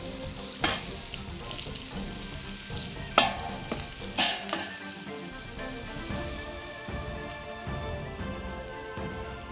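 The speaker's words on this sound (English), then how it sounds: "And then now we have our white chopped onion in there." Chopped white onion and bacon sizzle and crackle steadily on a hot cooktop inside a Weber 22-inch kettle grill, close and continuous, with a few louder stirring scrapes and clinks.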